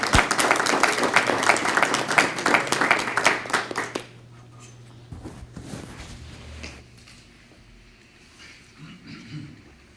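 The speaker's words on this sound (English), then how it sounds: "So can we all give a round of applause for Virginia?" A church meeting audience gives a round of applause, brisk and fairly loud for about four seconds, then it stops and quiet room noise with faint shuffling follows.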